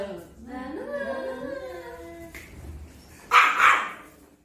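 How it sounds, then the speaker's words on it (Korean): A small dog yips and whines in high, wavering tones, then lets out a short, sharp burst of barking close by, with people chatting quietly around it. "쿠쿠 짖는 거 너무 귀엽지 않아?"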